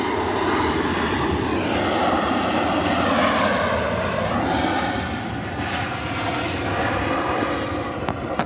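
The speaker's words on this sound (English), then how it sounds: "the North Dreamliner for Bridgetown, Barbados" A Dreamliner jet bound for Bridgetown, Barbados, rumbles loudly and continuously nearby, its engine whine shifting in pitch as it moves, with no voices over it.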